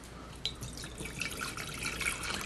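Vinegar poured for a goat's cheese vinaigrette, a steady close liquid trickle and splash running continuously with small irregular drips, no talk.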